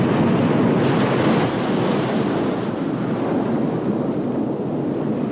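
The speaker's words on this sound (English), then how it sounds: "the Indian Ocean swell breaks upon the shore, forming some of the most perfect waves in the world" Indian Ocean swell breaks on the shore at the eastern tip of Java, a loud, continuous roar of surf and wash with wind buffeting, no voices.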